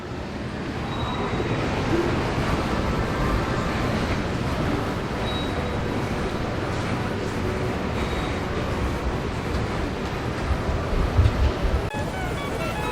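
Steady low rumble of a metro train running through a subway station in South Korea, continuous and fairly loud, with no voices over it.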